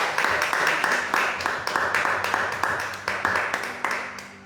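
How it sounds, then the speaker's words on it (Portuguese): Worshippers clap in a steady, rhythmic beat during a Wednesday evening church service, sharp evenly spaced claps over a soft tonal background, fairly loud and close. "Então, aplauda o nome do Senhor Jesus."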